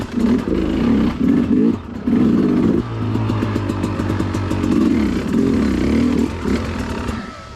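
A hard enduro motorcycle engine with high gearing, ridden up a rocky rut, labours close by with uneven revving, clattering bursts and brief dips as it bogs and nearly stalls.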